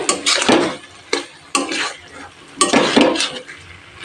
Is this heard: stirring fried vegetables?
yes